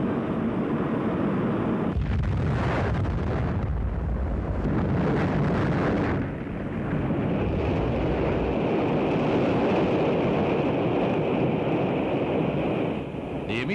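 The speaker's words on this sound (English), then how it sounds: "The immediate cause of the explosion is not known." An Atlas-Centaur rocket explodes during launch, a loud sustained roaring rumble with a sharp burst of noise around two seconds in, then continuing wind-like roar without voices.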